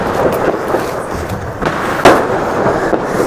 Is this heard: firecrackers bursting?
yes